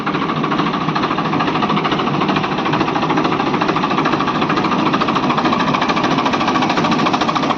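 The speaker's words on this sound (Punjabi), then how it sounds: "ਬਾਕੀ ਟਰੈਕਟਰ ਤੁਹਾਨੂੰ ਸਟਾਰਟ ਕਰਕੇ ਦਿਖਾਉਣੇ ਆ" A diesel tractor engine idles steadily and loudly up close, with a rough, rapid knocking chug that holds even throughout.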